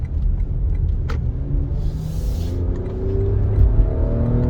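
A 2022 Lexus RX350 F Sport engine accelerating under a slow roll of the throttle, a steady close rumble with rising tones and no voices.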